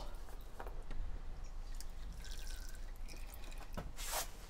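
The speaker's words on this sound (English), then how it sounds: "Washing up bowl underneath to catch the oil." Engine oil from a Lancia Delta Integrale drips into a plastic washing up bowl beneath the car, a few faint, irregular plinks over a steady low workshop hum.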